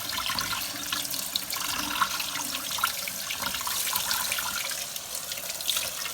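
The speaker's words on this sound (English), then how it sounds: "Give your black-eyed peas a good rinse." Steady running water from a sink tap rinsing black-eyed peas, a continuous close hiss and splash that holds at an even level throughout.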